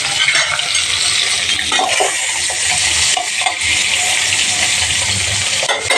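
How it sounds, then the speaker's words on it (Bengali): Gulla fish fry in hot oil in a home kitchen with a constant loud sizzle and crackle, broken by a few clinks of a utensil against the pan. "এগুলোকে প্রথমে তেলে ভেজে নিব"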